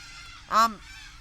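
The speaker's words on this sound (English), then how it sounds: "I think they're the corellas. The partying corellas." A single harsh, honking call from a corella rings out close by for about a quarter second, set against a faint background hum.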